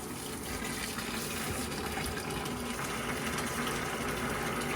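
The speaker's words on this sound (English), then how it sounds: "Now vinegar is running through the system, like you can see here." A small pump circulates vinegar through a Rheem tankless water heater during descaling, giving a continuous close rushing, gurgling flow with a low mechanical hum underneath.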